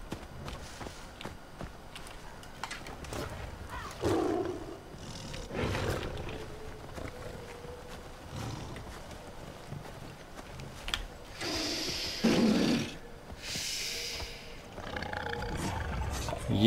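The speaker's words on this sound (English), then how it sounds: "It's a black lion, actually." In the video game Far Cry Primal, a black lion lets out deep growling roars at intervals, with footsteps and rustling movement between them and moderate, fairly close bursts of sound against a quiet backdrop.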